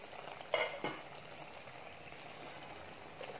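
Chicken curry simmering in a covered pan over a medium flame, a steady faint sizzle and bubble with a couple of soft lid or utensil knocks near the start.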